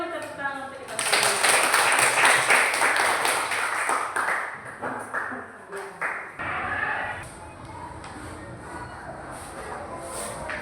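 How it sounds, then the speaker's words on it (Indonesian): Audience applause at a school teachers' creativity competition marking the PGRI anniversary in Poso; a loud burst of clapping and cheering swells in after a second, holds for several seconds, then thins out beneath murmuring voices. "Berikan dulu tepuk tangan untuk kita semua."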